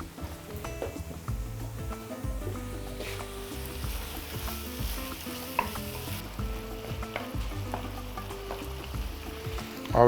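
Chicken and mushrooms fry and are stirred in a pan for a lavash quesadilla, a close, steady sizzle broken by scraping and clinking of the utensil against the pan, with no talking.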